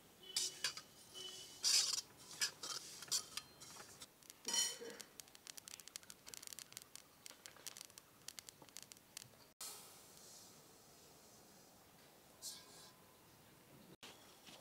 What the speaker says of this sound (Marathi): सगळ्यात पहिले तीळ आपण भाजून घेऊ